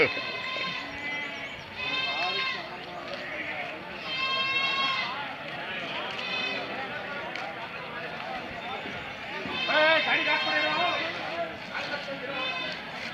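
Several sheep bleat repeatedly, some close and some farther off, over a busy background where people talk throughout.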